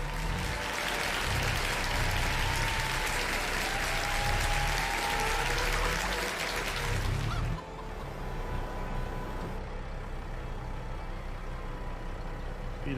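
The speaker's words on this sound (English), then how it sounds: "Everybody get a big old round of applause to Ghetto Pirate." A canned applause sound effect plays over gameplay from a Farming Simulator 22 stream, a dense, loud burst of clapping lasting several seconds before cutting off to quieter background.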